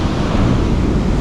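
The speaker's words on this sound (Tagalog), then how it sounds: "malakas ang alon" Strong ocean waves surge and wash onto Torrey Pines beach in La Jolla at high tide, a loud, steady roar of surf with wind buffeting the microphone and no voices.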